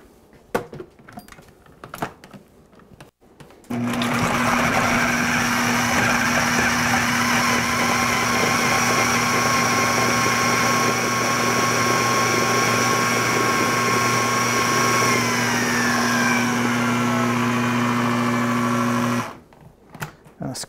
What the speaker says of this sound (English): And we're going to blend this up.